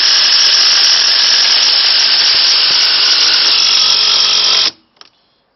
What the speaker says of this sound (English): let's test the two drivers. The lithium ion versus the old Makita.